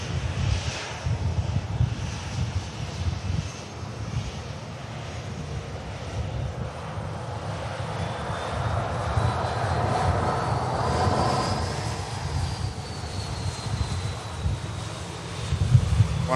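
Aircraft engines rumble at Manchester Airport as a plane waits on the active runway for departure, a broad sustained roar with a faint whine rising and fading midway, heard from a distance under wind noise.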